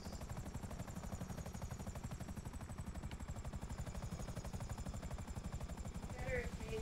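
Video game helicopter with a rapid, steady rotor chop that thumps evenly throughout at a fairly constant level, briefly swelling near the end.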